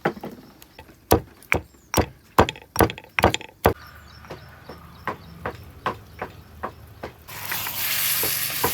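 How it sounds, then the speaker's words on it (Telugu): Grated coconut and cashews pounded by hand for a country chicken gravy, about a dozen sharp regular thuds, close and clear, then fading to a steady hiss at the end. "మెత్తగా దంచుకున్నటువంటి కొబ్బరి, దీంతోపాటు కాజును కూడా దంచుకుందాం"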